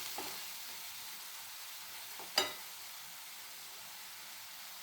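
Oil hisses and sizzles softly and steadily in a pan while a turkey berry stir fry with coconut cooks. Partway through comes one brief clatter.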